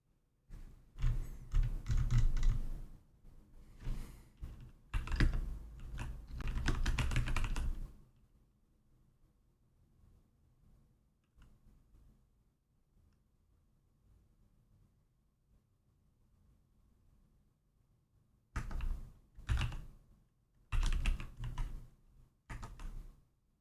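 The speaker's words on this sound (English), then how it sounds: "I'm typing without thinking now" Bursts of rapid keystrokes on a computer keyboard during a coding puzzle session, a long flurry of clicks, then a quiet pause, then more clustered typing, close and crisp with no talking.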